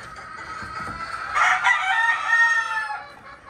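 Hens and roosters in breeding pens on a farm, with a rooster crowing loudly in one drawn-out call over soft background clucking.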